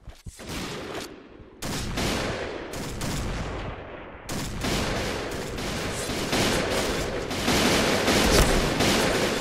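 Rapid sustained gunfire in the shooter game Point Blank, likely including a PGM Hecate II sniper rifle, with dense bursts and volleys filling the whole span after a brief gap near the start.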